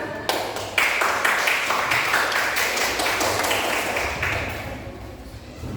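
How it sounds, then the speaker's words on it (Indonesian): Classmates applaud after a group presentation in an Indonesian classroom, a dense burst of many hands clapping that starts abruptly, holds steady for several seconds, then thins and fades away. "Beri tepuk tangan."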